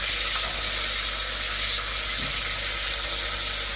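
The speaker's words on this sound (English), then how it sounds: "So hot pan with oil, and we're gonna sear these off on both sides." Oxtail pieces searing in about two tablespoons of hot oil in a pressure pot, giving a steady, loud broadband sizzle with a constant low hum underneath, no talking.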